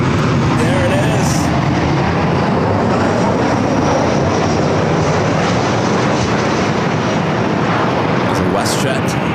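A WestJet Boeing 737-800 airliner roars steadily at LAX, its loud, continuous engine noise dominating throughout while people talk over it.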